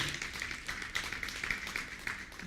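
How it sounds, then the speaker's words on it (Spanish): A church congregation claps for the Lord in a steady patter of many hands, moderately loud and close, with no voices above it. "Dale un aplauso al Señor"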